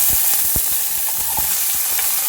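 Coriander, curry leaves and garlic fry in hot oil with a loud, steady sizzle, broken by soft stirring knocks and pops close by.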